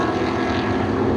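Drag race cars launch at Seekonk Speedway during spectator drags, including the 9 car, an 05 Grand Prix; a loud, steady engine roar fills the moment with no voices, dense and continuous throughout.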